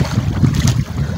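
Strong wind buffeting a fishing boat out on the water, a loud continuous gusty roar with rumbling microphone buffeting and no voices over it.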